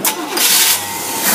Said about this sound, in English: We're going to fire it up and show you that it works and rev it up.